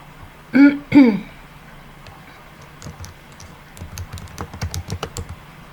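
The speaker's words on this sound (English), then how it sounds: "in the search bar I'm going to type in SHIBA" Close computer keyboard typing: a rapid run of light clicks and taps near the end, after a short throat-clearing sound at the start, then a quiet pause.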